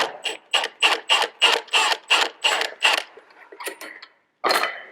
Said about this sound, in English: I like the impact for taking stuff off.